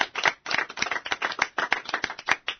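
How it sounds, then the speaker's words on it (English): A roomful of people in a radio studio applauds, a dense run of sharp claps in quick uneven bursts, close and fairly loud, with no talking. "here to provide us with a round of applause"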